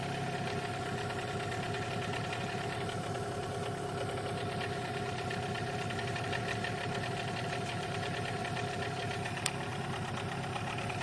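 An outboard boat motor runs steadily during its break-in period, a continuous droning hum with a knocking pulse that holds at an even level throughout, with no voices present.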